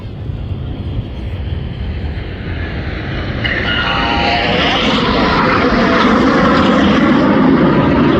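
Red Arrows jets roar overhead during a flying display at the Midlands Air Festival, a loud engine rumble that swells and sweeps in pitch as the aircraft cross and pass close.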